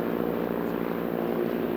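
A Junkers F13 and an A50 Junior fly in formation over the Alps, giving a loud, close, steady propeller-engine drone with no break.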